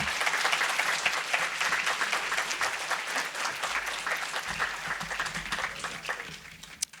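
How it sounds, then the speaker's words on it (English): A school audience gives a warm round of applause for a new student president, with many hands clapping steadily and fairly loudly before the sound thins out and fades near the end. "I need to give her a round of applause for the work she's done thus far"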